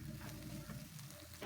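Meatballs stir-frying in seasoning paste in a wok give a continuous sizzle with scraping stir strokes, fairly close and steady, with no voices over it.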